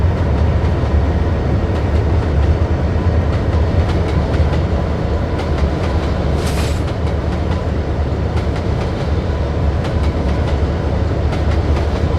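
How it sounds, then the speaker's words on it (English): A train rumbles past nearby, a loud steady roar with rhythmic clacking of wheels on the rails throughout. "Look, that train going by."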